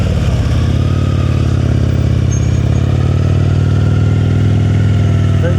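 A Road King motorcycle rolls at slow speed through a cone practice course, its engine a steady, loud low rumble that holds even throughout.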